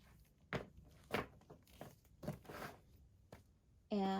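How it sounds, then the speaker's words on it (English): A zipper closing on a Lily Jade diaper bag: a short, sharp burst of zipping at the very end, after a few soft handling thumps and rustles. "she zips up, no problem"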